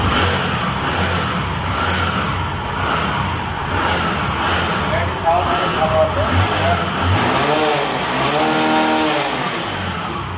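A 2022 Bajaj Discover 100 motorcycle engine runs steadily up close, a continuous buzzing idle with slight rises in revs and no pauses.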